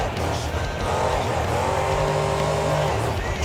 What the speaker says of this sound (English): Drifting it out once again